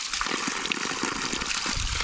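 Water pours steadily from a pipe into a bin for watering an old truck, a continuous broadband rush at constant close level with no voices.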